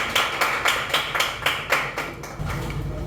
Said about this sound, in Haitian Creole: Sous votre applaudissement, s'il vous plaît.